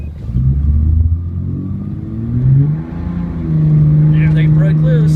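A 2004 Dodge Ram truck engine revs hard in a standing stop as the wheels break loose, loud, close and rising in pitch in surges, with a person talking during the run.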